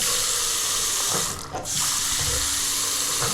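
Water drains through a basin sink fitted with an anti-siphon bottle trap, making a steady close rush of flow that briefly dips mid-way and then resumes.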